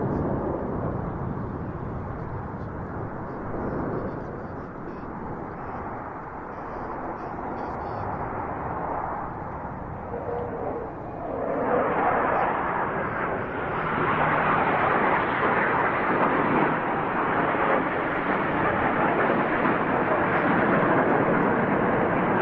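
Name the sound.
Black Eagles aerobatic team jets flying a display manoeuvre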